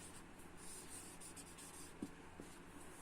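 A pen scratches numbers by hand onto paper in a faint, continuous, soft writing rasp during a numbers lesson.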